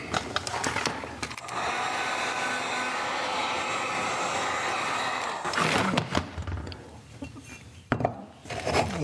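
A torch roars steadily as it heats the rear wheel hub of a Suzuki TS50 motorcycle, with clanks of metal parts at the start and again near the end.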